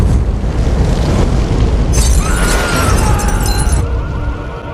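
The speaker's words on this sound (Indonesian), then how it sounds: "tanpa diduga mobil itu meledak" A car blows up as a movie sound effect: a loud, sustained roaring burst with crackling debris and shattering, lasting several seconds and fading toward the end, with no talking.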